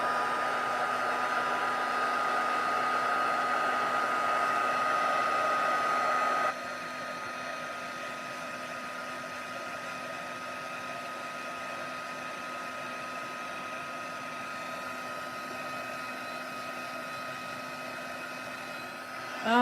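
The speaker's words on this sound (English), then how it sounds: "We can use the tweezers to hang on to our cardstock while we emboss with the heat tool" A heat tool blows hot air to emboss powder on cardstock held with tweezers. Its loud, steady whirring drone runs the whole time and drops to a slightly lower level partway through, with no voices.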